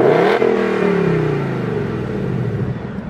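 A 2019 Ford Mustang GT 5.0 in normal exhaust mode revs loudly, peaking quickly and then winding down, its exhaust note sliding lower into a rumbling, burbling idle.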